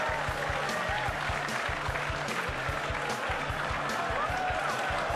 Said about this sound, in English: If you ever want to hear a crowd go wild